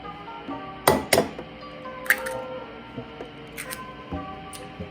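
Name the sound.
mixing and scrambling eggs in a bowl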